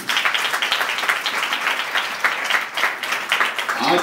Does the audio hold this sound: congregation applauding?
yes